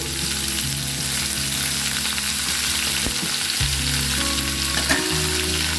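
Potatoes, cauliflower and peas fry together in a pan, producing a loud, continuous sizzle with a low steady hum beneath it and occasional stirring clatters.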